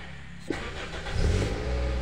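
A cold Toyota Altis engine catches after cranking: a sharp click, then a low rumble that swells and settles into a steady, close idle.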